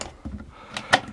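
A drawer in an Elddis Majestic motorhome sliding open or shut, a short close rumble followed by a sharp knock as it stops.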